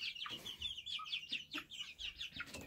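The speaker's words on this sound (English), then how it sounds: "the chickens are all chickening around" Chickens cluck repeatedly in a run of short, bright calls in a winter farmyard, fairly close and steady with no talking over them.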